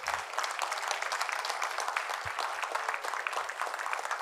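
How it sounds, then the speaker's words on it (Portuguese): A church congregation applauds together during a Bible study, giving a steady, even wash of clapping at moderate volume that holds for several seconds. "Vamos aplaudir o Senhor por esta palavra."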